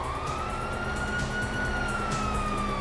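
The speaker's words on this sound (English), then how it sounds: "you hear that? Sirens!" Police sirens wail in the GTA V video game, a steady rising and falling electronic tone sounding continuously over a dense background of engine and street noise.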